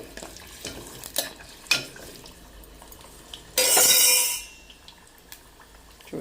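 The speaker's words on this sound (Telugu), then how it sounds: "కాయలు వేగుతున్నాయి" Indian gooseberries (amla) frying in oil in a pan on a stove, with a loud burst of sizzling in the middle, surrounded by quieter stirring clinks and scrapes.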